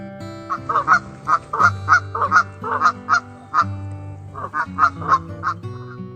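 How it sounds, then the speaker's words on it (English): Geese honk loudly and repeatedly in uneven bursts, several calls overlapping close by, with no voices. "Goose,"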